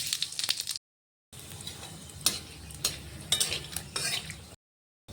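Whole dried chilli, cinnamon, clove, cardamom and cumin tempering in hot oil for Kashmiri chicken, a soft close sizzle with stirring scrapes, broken by short gaps of silence.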